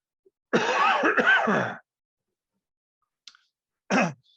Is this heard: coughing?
yes